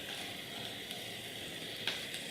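Onions and garlic fry in a pan with a faint, steady sizzle, a soft continuous hiss broken by a couple of tiny pops.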